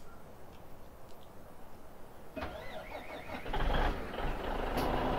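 Hook lift truck in Farming Simulator 17 starting up and reversing, with an engine cranking to life, a rising diesel rumble and faint beeping, steady and fairly close.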